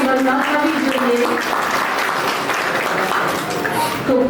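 Audience applause at a college annual day prize-giving ceremony for the Arts and Commerce College in Anklav, a steady, loud wash of clapping filling the hall throughout, with voices and crowd murmur mixed in.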